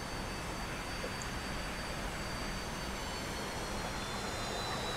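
A T-45 jet engine in the DCS flight simulator roars steadily with a broad whine, sounding sustained and even rather than clearly rising, with no voices.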